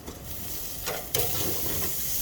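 Pulled pork sizzling in a hot Dutch oven, a steady crackling hiss with a sharp sizzle burst as meat hits the pot, continuing loud and close.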